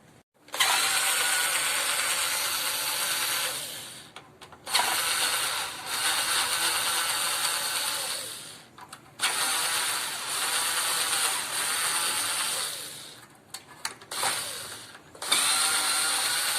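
Screws being backed out of the heating element on a Titán water heater, a steady ratcheting, mechanical whir that runs in several long bursts separated by short pauses, close and fairly loud.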